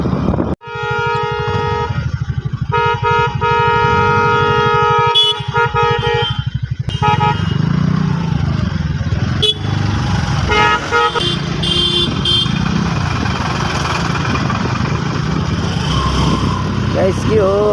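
Horn toots ring out repeatedly during a scooter ride on a rough mountain road between Sikkim and Darjeeling, with loud engine and road noise throughout and other vehicles passing nearby.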